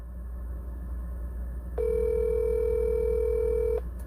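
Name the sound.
phone ringback tone, unanswered call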